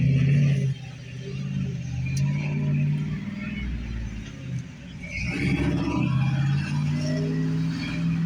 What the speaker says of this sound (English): Truck's pretty loud